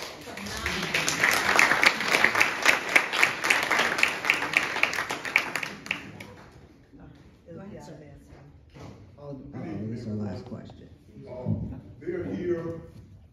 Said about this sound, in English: I want to applaud both of you ladies because you're phenomenal.